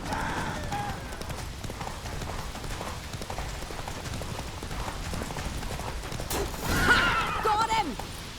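Hooves of Roach, Geralt's horse in The Witcher 3, clip-clopping in a quick galloping rhythm throughout, with a brief whinny near the end and voices talking over it.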